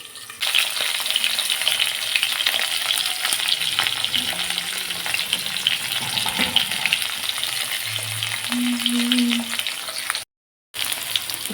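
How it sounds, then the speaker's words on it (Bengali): Cauliflower florets and potatoes fry in a covered pan with a loud, continuous close-up sizzle, now and then stirred, cut by a brief silence near the end. "একটু ঢাকা চাপা দিয়ে ভেজে নেব তাতে তরকারিটা ভালো করে তাড়াতাড়ি সেদ্ধ হবে আর ভাজাটাও ভালো হবে"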